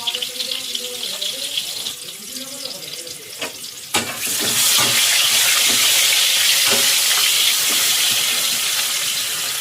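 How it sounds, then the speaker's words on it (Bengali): Potatoes dropped into hot oil in a pan with salt and turmeric, starting with clatter and a softer sizzle, then bursting into a loud, steady, close frying hiss that fills the rest. "এবার আমি প্রথমে আলুগুলো ভেজে নেব।"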